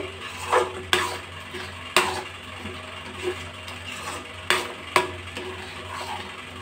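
Mango semolina payesh is stirred in a pot, with a spoon scraping and knocking against the pot in occasional sharp strikes over a low steady hum. No one speaks.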